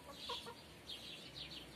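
Chickens in a garden cluck softly and intermittently while pecking at fallen, dried mulberries beneath a large mulberry tree, the short clucks repeating at a low, steady level.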